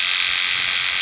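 Freshly sharpened electric barber clippers run with a steady, high-pitched buzz, close and continuous for a brief moment.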